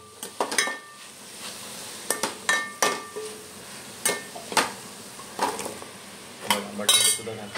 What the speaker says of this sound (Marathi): आता आपण घालणार आहोत बटाटे.